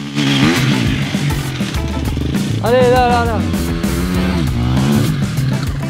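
Motocross motorcycle ridden on sand, its engine revving loud and close with rising and falling pitch and a sharp surge in the middle, while someone speaks briefly over it.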